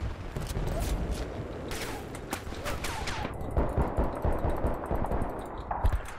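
Bursts of automatic gunfire and single shots from the video game Battlefield: Bad Company 2 Vietnam, rapid and repeated throughout and loud and close, with several shots overlapping.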